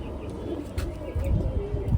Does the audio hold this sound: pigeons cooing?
yes